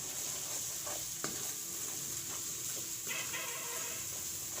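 Spices for a cashew and green pea curry are stirred in a pan, a faint continuous sizzle with soft scraping strokes and a sharp clink of the spoon, quiet and close without talking.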